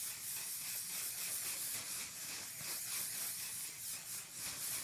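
Setting spray misted from a spray bottle onto the face before foundation, a steady soft hiss lasting several seconds with slight pulses, close and alone with no talk.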